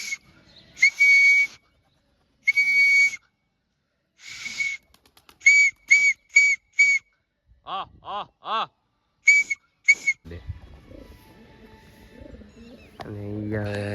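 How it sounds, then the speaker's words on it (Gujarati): A homemade whistle gives a series of short, shrill, close blasts, some spaced and some in quick runs. Pigeons coo in between, and a rustling noise follows at the end. "આ હમણાં છે ને એક સિસોટી આપણે બનાવી છે"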